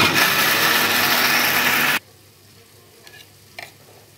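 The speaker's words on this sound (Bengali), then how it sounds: "মশলাটা মিক্সিতে আমি পেস্ট করে নিচ্ছি।" A kitchen mixer grinder whirs loudly, grinding a spice paste for a thin chicken curry, then cuts off abruptly partway through, leaving a quiet room with a couple of faint knocks.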